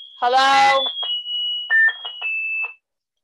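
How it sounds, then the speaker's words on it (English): An alarm tone sounds in short bursts under a loud voice: a high steady beep stretches across the opening second, then a series of choppy, stuttering beeps follows before it stops. "Yeah, that was the alarm, for sure."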